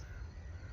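Crows caw in a backyard garden in an Indian village on a calm early morning, faint and steady over a low background rumble.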